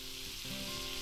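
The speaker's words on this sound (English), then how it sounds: "So we're gonna drop a bunch of butter on there. There we go. Let that start sizzling." Butter sizzles and crackles steadily in a hot pan, a soft, continuous hiss up close with no voices.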